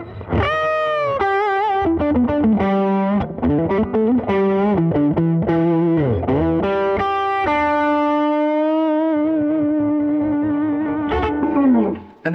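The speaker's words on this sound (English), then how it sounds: "If we put some distortion on, we're going to go to the humbucker in the bridge" A PRS Custom 24-08 electric guitar on its bridge humbucker plays through heavy distortion, sustained chords and bending lead notes ringing loud and alone, ending with a long held note.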